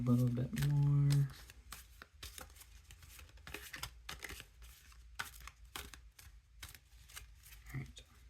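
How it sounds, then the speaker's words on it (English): Cards riffle and slap together in a quick burst, followed by softer, scattered shuffling taps. "Shuffle a little bit more."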